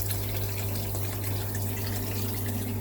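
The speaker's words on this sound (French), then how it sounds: "aussi un bulleur pour oxygéner au maximum l'eau" An air bubbler oxygenating the water in a small trout tank of an aquaponics setup, giving a steady, dense rush of bubbling and gurgling with a low, constant hum underneath, unbroken from start to end.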